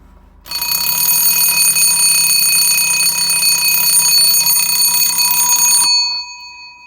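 A 1941 Westclox Baby Ben style 5 alarm clock rings on its soft setting: a continuous bright metallic bell rattle that starts abruptly, holds steady for about five seconds, then cuts off, loud and close with no voices.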